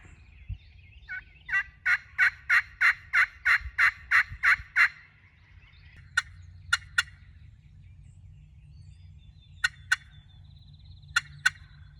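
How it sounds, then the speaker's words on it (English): A wild turkey gobbling in answer to hunter's yelping calls in the woods: a loud run of about a dozen rapid yelps, then sharp, sparse clucks and a distant gobble-like burst, with no talk. "after 30, 45 minutes of yelping, a yelp was answered with a gobble"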